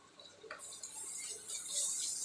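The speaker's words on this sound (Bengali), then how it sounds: "রসুনটা দিয়ে ওই পেঁয়াজের সাথে একসাথে নাড়াচাড়া করতে হবে।" Garlic stirred in with softened onions in a pan for a chicken dish, a steady frying hiss with scattered scrapes and clinks of a spoon, fairly close and quiet, no talking.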